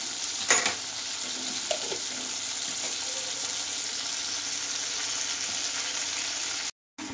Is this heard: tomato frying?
yes